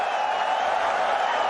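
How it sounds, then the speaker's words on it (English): Cricket fans cheering loudly in a stadium during a Pakistan versus Australia T20 international, a steady broad roar of crowd noise with a faint clapping texture, sustained and distant-sounding without a break. "Babar Azam gets the 50 to a loud cheer of the fans"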